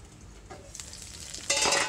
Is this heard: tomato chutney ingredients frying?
yes